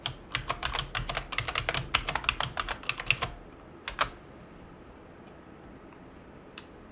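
Password keystrokes on a computer keyboard at a Windows 10 login, a quick run of crisp, close clicks for about three seconds, then a couple of isolated taps against a quiet room.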